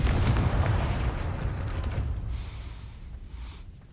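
A Confringo blasting curse fired at a gate in the Hogwarts Legacy video game lands as a loud, deep boom, then fades as a long rumbling tail over several seconds, with no voices.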